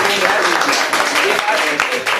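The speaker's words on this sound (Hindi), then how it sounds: "एक बार इसमें ताली मारिए" Classroom students clapping together, a dense, steady burst of applause close by that fills the whole moment.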